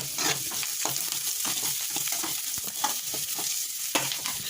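Spices sizzle in a pan with turmeric, chilli powder, cumin powder, garam masala, coriander powder and black pepper for a potato saagu, sounding loud and close with repeated stirring scrapes over a constant frying hiss.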